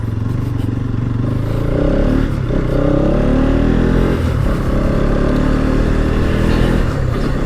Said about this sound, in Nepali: यता त फाटाफुट्टा अलिअलि बाइकहरू चल्ला जस्तो छ